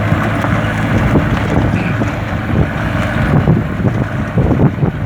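A walking tractor tilling soil in first gear on a rice field makes a loud, steady engine drone close to the microphone, with some wind buffeting the microphone.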